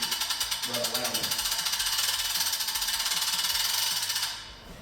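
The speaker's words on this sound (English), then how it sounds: "Simply hook on the product you have and then we wind the handle and it is ratcheting up" The handle of a Guardian Pro-6G davit arm winch is wound, and its ratchet gives fast even clicking for about four seconds before it stops, close and clear.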